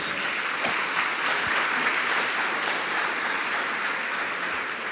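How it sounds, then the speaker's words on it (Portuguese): A church congregation applauds for Jesus during a worship service. The clapping is steady and continuous, a dense wash of many hands held at an even level throughout. "Dá uma salva de palmas para Jesus"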